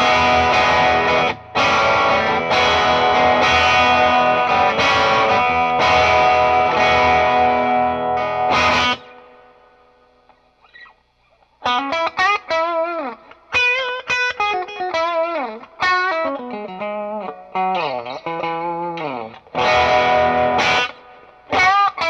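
An electric guitar runs through a Strymon Sunset dual overdrive pedal in treble mode, first as loud sustained distorted chords, then, after a short quiet gap, as a bright, biting lead line with bends. No one speaks.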